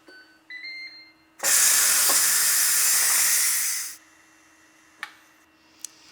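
Steam rushing out of a pressure cooker on a quick release while making a turkey dump soup, a loud sustained hiss of about two and a half seconds after faint beeps, then cutting off, followed by small clicks and taps.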